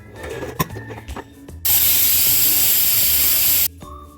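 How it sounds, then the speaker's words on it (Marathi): A pressure cooker whistle blasts a loud, steady hiss of steam for about two seconds, set between quieter clatter of the cooker holding cauliflower and potato curry. "आता झाकण लावून कुकरच्या 3 शिट्ट्या काढून घ्यायच्या आहेत."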